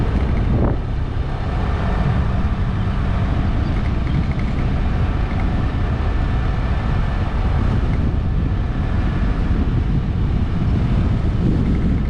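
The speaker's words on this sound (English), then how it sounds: "See, we got a bit of wind. I bet you can hear that, even though I got the wind reduction on." Wind buffets the microphone in a steady, loud rumble throughout, with no breaks, outdoors on a drive through a lakeside campground; no talking.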